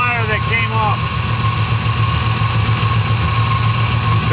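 An LS V8 engine in a Miata idles with one cylinder misfiring, a steady low rumble held close and even for the whole stretch, with a brief voice near the start.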